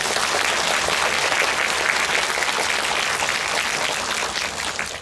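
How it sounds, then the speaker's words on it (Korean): Sustained, loud audience applause for four guests at a Korean film talk event for The Man Standing Next, dense and even throughout with no voices. "우리 네 분께 일단 뭐 박수 한번 주시죠"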